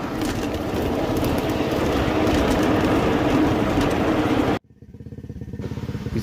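A train runs along a rail line on a wet, rainy day, a loud continuous engine rumble and rolling noise that cuts off abruptly near the end, then returns as a quieter, building rumble.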